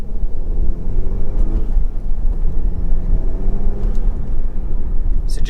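VW MK7 GTI driving with its turbo muffler deleted, a steady loud engine drone with rising turbo spool while accelerating, heard from inside the car under faint talk.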